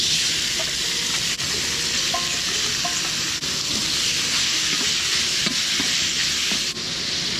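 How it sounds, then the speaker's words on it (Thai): Minced pork for northern Thai larb sizzles steadily in a pot, a loud, continuous frying hiss broken by occasional scrapes and knocks of stirring. "ลาบหมูที่เขาก้นไว้เอาใส่ลงไปเลยครับ"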